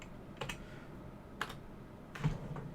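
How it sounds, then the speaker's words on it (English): A few brief bursts of computer keyboard keystrokes as a password is entered on a Linux i3 lock screen, faint against a low steady background hum, with short gaps between the clusters of taps. "you need to type your password"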